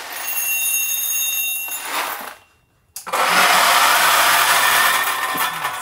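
An Option-O Lagom 01 coffee grinder spun up to its fastest speed gives a loud, steady high-pitched whine that cuts out for about a second and then starts again, running on continuously with no talk.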